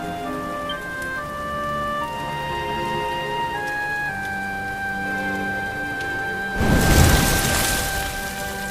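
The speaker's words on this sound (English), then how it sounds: "Looks like the rain's dying down." Steady rain falls in Dragon Quest XI over sustained musical tones, then a louder rushing burst of rain swells near the end.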